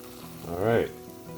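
Trader Joe's fettuccine with mushrooms frying in a pan, a steady close sizzle with a brief louder swell as the food is stirred and moved around.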